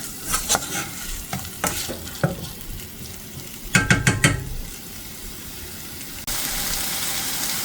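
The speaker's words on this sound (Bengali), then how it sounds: "বেশ অনেকক্ষণ ভাজা দিছি" Spices and vegetables frying in a pan are stirred with a spatula, sharp scraping clicks and clatters repeating irregularly over a steady close sizzle, with a brief rapid cluster of knocks midway and louder frying at the end.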